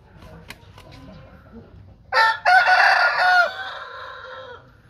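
A rooster crows loudly once, a long harmonic call rising and trailing off over a couple of seconds after a quiet, faintly noisy start.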